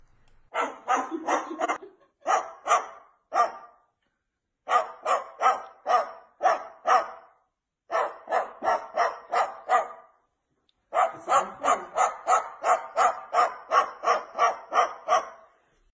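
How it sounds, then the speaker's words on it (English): A bird perched on a cat barks like a dog in rapid series of short, sharp yaps, grouped in bursts separated by brief pauses, clear and close. "First, with a bird barking on a cat."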